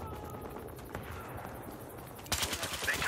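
A nail gun in Battlefield Hardline starts firing after a quiet stretch, a burst of rapid sharp shots in a fast irregular rhythm.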